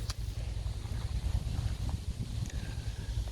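Wind blowing over a hay field at baling time, a steady low rumbling buffet across the microphone with no other distinct sounds.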